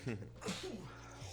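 A single sharp sneeze bursts out near the start, followed by low background voices of people talking in a casual indoor conversation.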